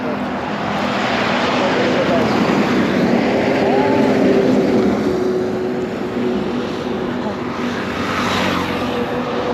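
Motorbikes pass along a highway, giving a loud, continuous engine-and-road roar that swells slightly in the middle and then holds steady, close by and unbroken by talk.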